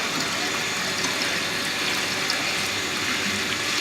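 Water rushes steadily through the pipe fittings of a laboratory test rig while trapped air is drained out, a loud, continuous gushing hiss that holds constant throughout.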